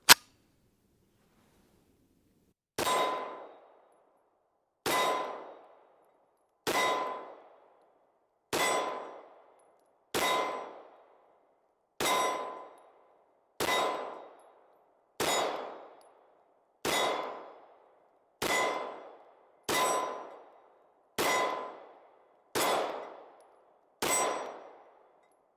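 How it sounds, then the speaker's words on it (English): A CZ P-10 C pistol fires standard ball ammo at a steel target, giving about fourteen evenly spaced sharp shots, each with a ringing metallic clang, steady and clear with no talking. "I'm going to do the same thing with the P-10C, no excuses"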